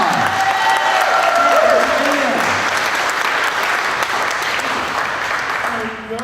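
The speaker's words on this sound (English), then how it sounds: "Ted, let's give him a round of applause." Loud audience applause at a Corvette grand prize award ceremony, a full sustained round that slowly fades toward the end, with a voice briefly audible early on.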